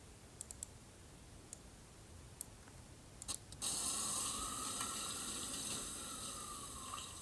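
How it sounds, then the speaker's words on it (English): Tap water runs steadily into a sink, a constant rushing splash that starts abruptly after a few faint clicks and continues alone at moderate loudness. "I'm going to get rid of the sound of the water"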